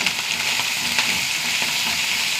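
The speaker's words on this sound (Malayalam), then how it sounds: "ഉള്ളി നന്നായി മൂത്ത് വരട്ടെ." Small onions, dried red chillies and curry leaves fry in hot oil, giving a steady, close, even sizzle with faint crackles and no voices.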